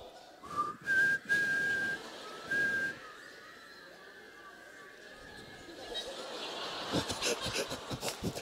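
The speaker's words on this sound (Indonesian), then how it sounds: "kita bersiul yuk, rame-rame yuk" An audience at a sermon whistles together, with a few clear sustained whistled tones and then a rising, scattered wash of many whistles and chatter, mixed with talking.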